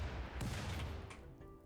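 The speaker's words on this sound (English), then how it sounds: "They did get a mortar off." A mortar launches in the colony-sim game RimWorld during a siege, a single quiet, muffled boom with a short rumbling tail.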